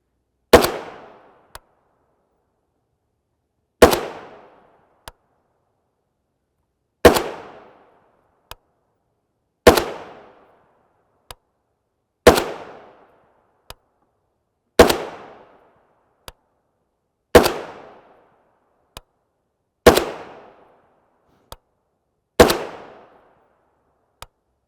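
A rifle with a 16-inch barrel fires 7.62x39mm 62gr FMJ East German trainer rounds at 25, ten sharp, loud shots spaced a few seconds apart, each with a short ringing decay and a faint click after.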